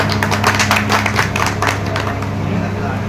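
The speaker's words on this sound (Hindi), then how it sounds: "हम चाहेंगे कि आपके लिए एक बार जोरदार तालियां" Applause at a Kanpur city party meeting for the district president, a burst of many hands clapping close and loud, thinning after the first two seconds, with a steady low hum underneath.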